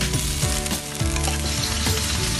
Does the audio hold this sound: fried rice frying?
yes